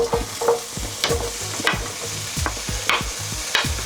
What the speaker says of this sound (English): Now I'm just gonna add my pepper.